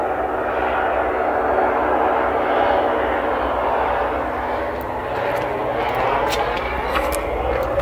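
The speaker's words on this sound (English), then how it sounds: "I think there's an aircraft flying by." A fixed-wing aircraft passes overhead in the Yorkshire Dales countryside as a steady, broad engine drone that holds throughout, with faint sounds in the foreground.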